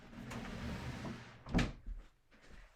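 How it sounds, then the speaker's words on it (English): A room door pushed shut with a short, firm thud over quiet background hum, alone with no talking. "I should close my door real quick."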